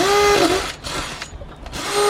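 A hammer drill runs at high speed into brick, its whine steady then dipping and returning over about two seconds, with gritty grinding noise throughout.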